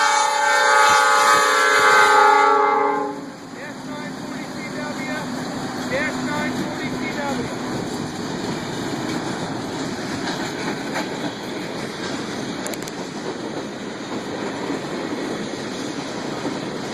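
A short train rolls past with a weak horn, opening with harmonic horn tones for the first few seconds, then a steady rumble and clatter of railcars that continues to the end.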